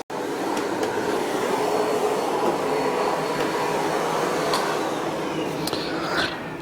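A Miele Blizzard CX1 bagless vacuum cleaner with a Parquet Twister floor head drones steadily and loudly at close range, with faint clicks and knocks as the head swivels over a hard floor.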